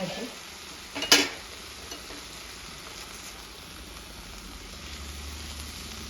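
Fenugreek leaf (methi) bhaji is stirred in a pan on the stove, with a short, sharp scrape of the spoon against the pan and a soft, steady sizzle continuing quietly underneath.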